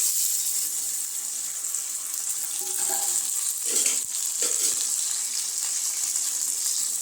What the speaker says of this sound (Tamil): கட் பண்ண வெங்காயம் இந்த அளவுக்கு வதங்கின பின்னாடி வந்து நம்ம ஊற வச்ச சிக்கனை சேர்த்துக்கிடுவோம்.